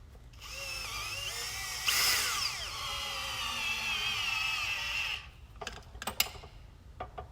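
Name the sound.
power drill driving self-tapping screws into OMT base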